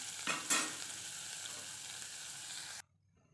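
Vegetables sauté in a hot pan with a steady close sizzle, opening with two short bursts of stirring before the sound cuts off abruptly near the end.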